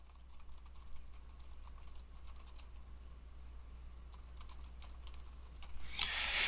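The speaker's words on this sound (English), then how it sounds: "then you can type in whatever conditions you have" Fast typing on a computer keyboard runs steadily throughout as rapid light clicks at close range, with no talking, ending in a brief louder burst of noise.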